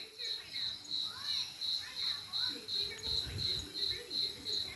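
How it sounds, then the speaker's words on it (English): Crickets chirp steadily in a rhythmic pulsing trill, about two pulses per second, with faint bird calls and soft low rustling underneath. "listen to those crickets"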